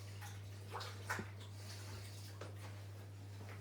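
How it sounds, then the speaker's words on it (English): Tap water runs and splashes over hands being washed in a home kitchen, uneven splashy bursts over a low steady hum, close by, with no talking. "just going to wash my hands because I've coated anything"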